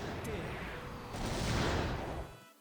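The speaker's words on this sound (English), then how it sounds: "let's watch missiles" Missile barrages from mecha in SD Gundam G Generation Genesis roar as a loud continuous rumble of rapid blasts and explosions, swelling midway before tailing off.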